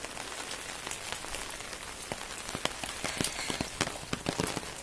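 Heavy rain pours steadily on the hairpin road between Valparai and Pollachi, a dense, even hiss broken by scattered sharp drop impacts, close and continuous with no talking.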